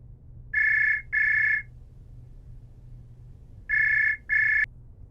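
A telephone rings in two paired bursts separated by a pause, clear electronic trills over a low background hum in an indoor domestic scene.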